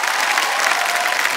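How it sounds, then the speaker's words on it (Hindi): An audience claps to welcome a guest actor at a stage event, a dense, steady burst of applause that fills the brief moment without any voices on top. "मैं चाहता हूं कि एक बार फिर स्वागत में इनके लिए तालियां बजाएं।"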